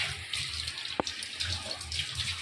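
Tap water runs steadily into a sink as homegrown starfruit is rinsed, a continuous close hiss and splash with a single sharp knock partway through.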